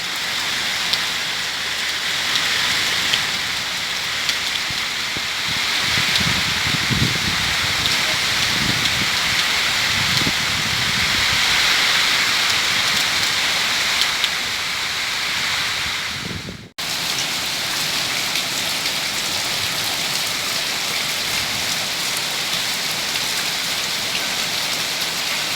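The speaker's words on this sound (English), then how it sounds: "It is pre-monsoon rain." Steady pre-monsoon rain falls around a fig tree in bloom, a continuous hiss of drops on surfaces with a brief cutout midway before the downpour resumes.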